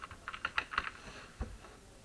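A student's name is typed into school management software on a computer keyboard: a quick run of soft, close key clicks, then a short pause and a few final taps.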